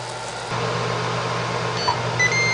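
A Ninja Smart Double Oven gives a couple of short, bright electronic beeps as start is pressed to preheat, heard near the end over a steady low fan hum.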